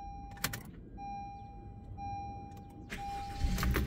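A Honda Civic engine turning over and starting after a starter replacement: a brief chime and clicking, then a quick crank that catches into a running idle, close and moderately loud.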